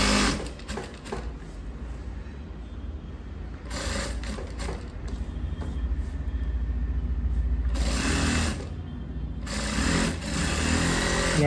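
A sewing machine stitching folded fabric for a lined chudidar in a tailoring shop, its motor whirring loud and close in long continuous runs with brief pauses between them, no voices.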